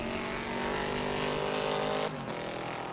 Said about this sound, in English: the Camaro certainly with a small block V8